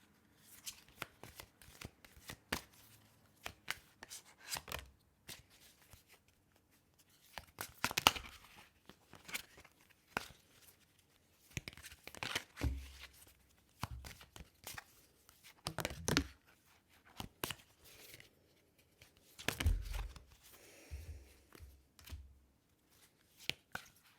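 Tarot cards shuffled by hand for a reading, with repeated soft riffling bursts and slaps between quieter pauses, close and fairly faint, no talking.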